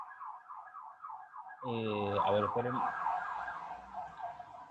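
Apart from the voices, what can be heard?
siren from outside through an open window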